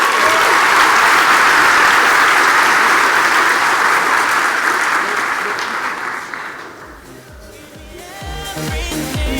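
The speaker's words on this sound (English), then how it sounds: "Please give her a round of applause." Applause fills the room at a gala awards dinner, loud and sustained from the crowd for about six seconds, then fading as a voice begins speaking over the dwindling claps.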